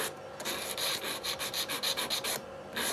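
A nail file rasps back and forth in quick, steady sawing strokes on an acrylic nail tip, close and clear with no talking.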